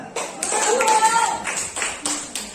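Scattered hand claps in a classroom lesson on zakat sound as a few sharp, separate slaps spread across the moment, mixed with a voice talking underneath.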